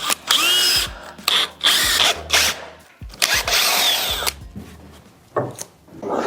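Close-up power drill bites into wood in several loud bursts, boring leg mortises, the motor pitch rising and falling with brief gaps between.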